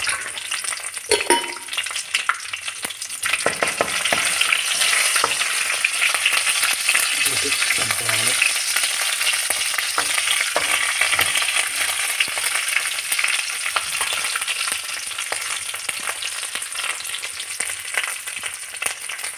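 Steady, loud sizzling of a tempering with curry leaves in hot oil for moong dal curry, crackling throughout with a few sharper pops and clinks early on; no voices.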